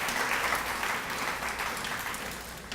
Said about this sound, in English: One more round of applause to these ladies.